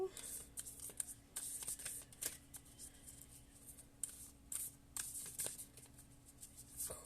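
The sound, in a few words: shuffling tarot cards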